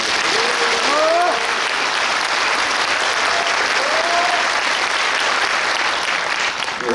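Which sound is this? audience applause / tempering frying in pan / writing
audience applause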